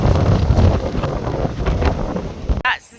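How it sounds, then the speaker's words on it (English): Loud, roaring wind with sustained speeds of about 45 miles per hour buffets the microphone in rumbling gusts on a farm, ending with a sharp clatter and a sudden drop to near quiet. "Holy cow with the wind."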